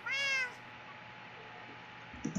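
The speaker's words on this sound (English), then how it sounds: "My cats!" A cat gives one loud, close, drawn-out meow at the start, followed by quiet room noise and a faint thump at the end.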